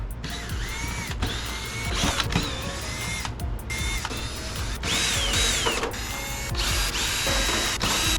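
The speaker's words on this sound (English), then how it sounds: "So we're gonna start taking all the screws off." Screws are backed out of a thermoelectric wine fridge with a tool, giving a steady mechanical whirring and ratcheting broken by short pauses and squeaky metallic turns, close and moderately loud.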